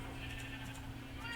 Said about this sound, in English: there's a lot of goats now